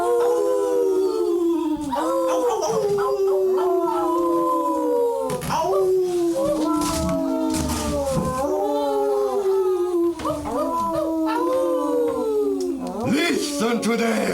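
Wolves howl at night in a film scene, a chorus of long overlapping wavering howls that rise and fall steadily throughout, loud and close, with no talk over them.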